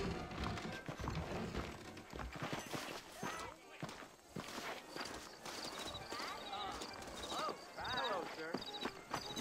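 Saddled horses clip-clop on a town street in Red Dead Redemption, with steady hoof beats and an occasional whinny woven through game music and ambient noise while someone talks.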